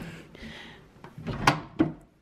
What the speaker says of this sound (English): Like the drawers do not open like very well. They got stuck, they're being kind of a pain.